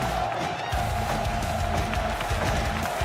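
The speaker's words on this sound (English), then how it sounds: "The crowd's getting a little bit rambunctious here." A crowd at a sports game cheers and shouts in a loud, continuous wash of voices, with a brief dip near the start before the noise swells again.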